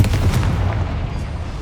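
A Confringo fire spell detonates in the Hogwarts Legacy video game inside a goblin mine, giving a sustained booming, rumbling blast with heavy low-end roar and crackling texture that stays loud throughout, with no talk over it.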